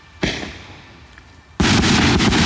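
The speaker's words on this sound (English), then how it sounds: "they put fire in the hand and the rocket goes up" A single firework rocket goes up from a hand-held launch: a sharp ignition pop, a brief hiss, then a loud, sustained rushing roar as the rocket climbs away, close by with no talk.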